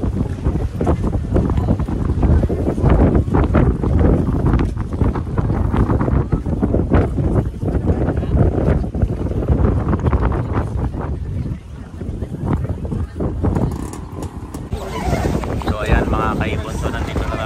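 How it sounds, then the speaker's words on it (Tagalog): Strong wind buffeting the microphone in a continuous loud roar on a boat, with engine and water noise beneath and people talking faintly. "So lakas ng hangin."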